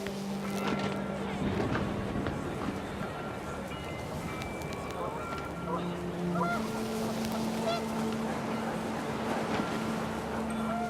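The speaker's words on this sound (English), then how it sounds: "The wind picked up, and panicked geese appeared and quickly went." Panicked geese honk in What Remains of Edith Finch, their calls rising and fading over a steady rush of wind and muffled movement.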